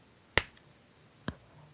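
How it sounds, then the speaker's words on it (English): Two sharp hand claps in a quiet room for a podcast recording's sync point, a loud crisp clap followed nearly a second later by a softer one, little else around them. "I'm gonna clap"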